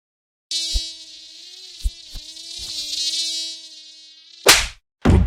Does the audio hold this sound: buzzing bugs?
yes